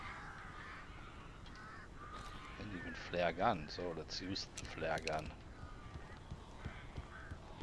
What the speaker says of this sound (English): There's a lot of birds.